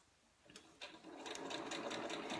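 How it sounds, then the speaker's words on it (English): A sewing machine stitches fabric tarot card cases, starting up after a moment and then running steadily with a fast, even mechanical rattle, close and clear. "right now we are working on sewing some tarot cases to house those cards"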